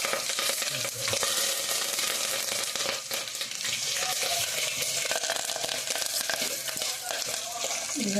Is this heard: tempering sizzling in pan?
yes